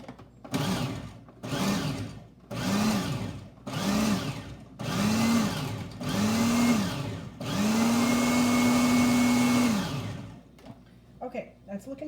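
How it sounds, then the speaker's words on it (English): A food processor pulses avocados in a run of about six short bursts of whirring motor, followed by one long continuous run, then stops, loud and close. "all of our avocados are in our food processor now"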